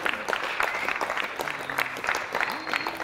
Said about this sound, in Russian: Аплодисменты гостю из Павлодара Жарух Хасон